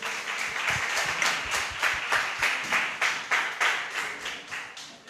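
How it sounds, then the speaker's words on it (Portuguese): A church congregation applauds, with rhythmic, fairly even clapping pulsing steadily at moderate volume with a slight echo of the worship space. "Você pode aplaudir o Senhor recebendo o servo de Deus?"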